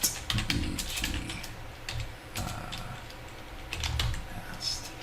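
Rapid clicking of computer keyboard keys while someone works in a code editor on a website's CSS, with short bursts of close, crisp taps spread across the moment and no talking.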